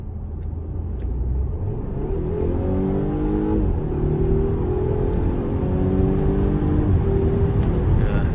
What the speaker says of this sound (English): So I will do a quick acceleration here.